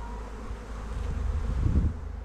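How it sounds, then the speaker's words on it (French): A bumblebee buzzes near beehives at an apiary, a low steady drone that swells as it passes closer, with light wind noise and no talk. "Le bourdon."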